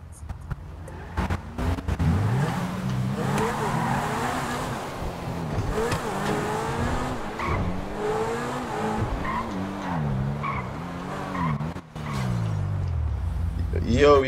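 Supercar engines, including a Ferrari LaFerrari, race in GTA 5 with steady, rising and falling engine whine and occasional tire squeal that continue throughout, while people talk over the action.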